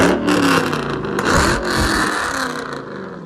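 A Ford Mustang GT engine revs loudly nearby, with a sustained roaring, rising and falling rev for about three seconds before it eases off at the end, and no talking over it.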